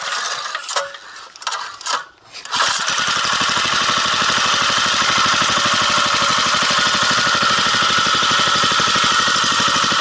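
A small engine on a homemade mini bike starts after a few clanks and sputters, then runs steadily at a fast, buzzing idle close by, not revving up fully.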